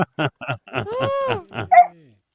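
Excited dogs let out a quick run of short barks and yips, then a drawn-out rising whine and a final sharp yelp, all close and fairly loud with brief gaps between bursts.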